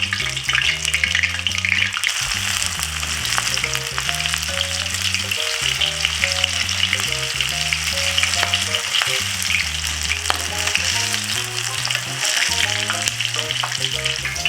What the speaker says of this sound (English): place the shrimp gently into the hot oil